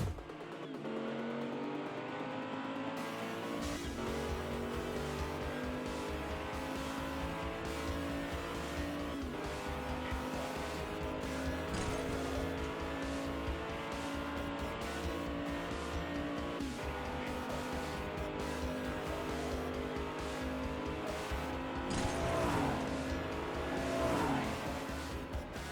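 Hot Wheels toy cars race a Ford against a Ferrari down a track, making a steady rolling, rattling roar that runs continuously and fairly loud with clicks and brief louder bursts near the finish.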